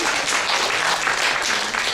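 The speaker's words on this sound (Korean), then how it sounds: "큰 박수로 환영해 주시기 바랍니다" Dense, steady applause from a seated audience welcoming a former professional baseball pitcher to speak at a lecture on pitching-related body injuries; the clapping stays loud and even throughout.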